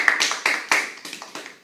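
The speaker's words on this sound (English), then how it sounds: "I want to acknowledge you for clapping in a strange rhythm" Hands clapping in an uneven, odd rhythm during a team meeting: about eight sharp, close claps with irregular gaps, no talking.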